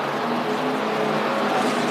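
GT4 race cars lap the Shanghai circuit during a China GT Championship round, giving a continuous, moderately distant engine roar with a broad, rushing texture and no pauses.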